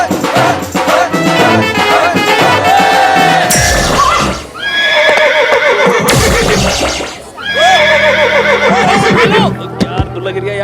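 A horse whinnies loudly several times, its long wavering neighs rising and falling amid a dense wash of other sounds and voices.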